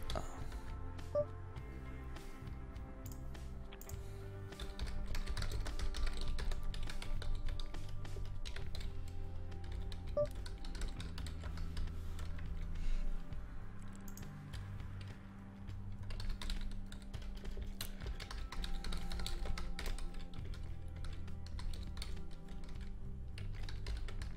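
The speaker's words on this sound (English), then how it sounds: "just typing a tweet here that I'm streaming" Soft, quiet keystrokes tap away in irregular bursts on a computer keyboard, steady typing with brief pauses over a low background hum.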